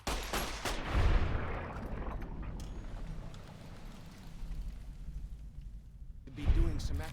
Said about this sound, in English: You don't have to shoot at everything,